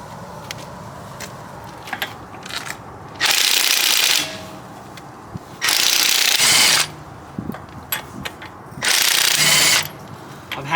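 A 3/4 inch drive ratchet clicking during a brake change on a 2006 Honda Odyssey, three loud, close bursts of rapid ratcheting about a second each, separated by quieter handling noises.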